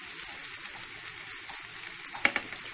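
Okra pieces frying in a hot pan with masala give off a steady, dense sizzle throughout, with a brief sharper crackle near the end.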